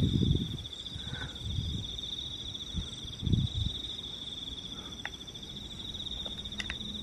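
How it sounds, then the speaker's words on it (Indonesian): Crickets chirp in a steady, high, continuous trill beside a river at night, with occasional soft rustles and faint low thumps nearby. "Suara jangkrik."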